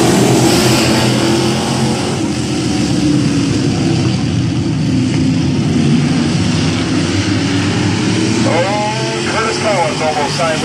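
Street stock race cars run an eight-lap dirt track heat race, with loud continuous engine roar rising and falling as they pass, and a voice briefly heard near the end.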